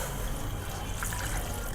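Water pours steadily from a glass into tripe (ojri) being washed for Eid ul Azha cooking. A continuous, fairly loud splashing trickle fills the whole moment with no pauses.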